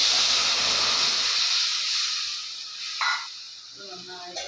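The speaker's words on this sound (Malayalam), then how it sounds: "കടുക് പൊട്ടിച്ച് അതിന് പച്ചമുളകും കൂടിയിട്ട് കടുക് പൊട്ടിക്കാം" Mustard seeds with green chilies spluttering in hot oil for a Kerala curry, a loud steady hiss and sizzle that eases gradually, with a few pops near the end.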